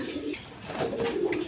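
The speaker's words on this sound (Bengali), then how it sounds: "এইখানে আরেক পেয়ার মসলদম কবুতর আছে" A pair of Masaldom pigeons cooing nearby, with soft repeated low coos over a steady rustling background and no voices.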